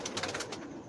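Madras pigeons cooing at night, soft repeated throaty coos in a short quick sequence, fairly faint and close, with no talking.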